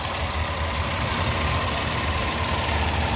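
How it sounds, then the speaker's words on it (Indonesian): A 2009 Daihatsu Terios TX manual SUV engine idles steadily, a low, even rumble heard up close with no talking. "untuk bagian mesin seperti ini teman-teman. Suaranya juga masih baik ya"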